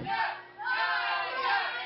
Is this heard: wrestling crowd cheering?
yes